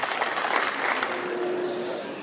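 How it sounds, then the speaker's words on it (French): A university graduation ceremony audience applauds the graduates with steady, dense clapping filling the hall throughout, with a faint murmur of voices beneath. "Je vous demande de les acclamer en applaudissant."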